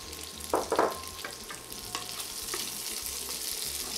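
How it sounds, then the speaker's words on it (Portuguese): Bacon and pine nuts frying in a pan for a Festa Junina pine nut farofa give a soft, close sizzle, with a couple of sharp stirring scrapes near the start and lighter utensil clicks after, no talk. "E aqui a gente pode deixar fritar um pouquinho, porque a gente quer o bacon um pouquinho mais dourado"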